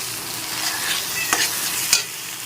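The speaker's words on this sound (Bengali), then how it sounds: "ভালো করে নেড়ে চেড়ে মিশিয়ে নিচ্ছি" Egg curry masala being stirred in a frying pan, a steady scraping of the spoon over a soft sizzle, with a couple of sharper clinks against the pan; no talking.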